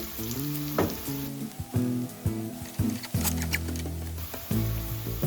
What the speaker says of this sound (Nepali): प्याज तर्दै